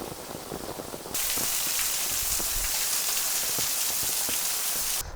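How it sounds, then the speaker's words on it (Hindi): Heavy monsoon rain pours in a dense, steady hiss at Toranmal hill station in Maharashtra, growing suddenly louder after a second and staying intense throughout. "बहुत ज़्यादा बारिश है आज"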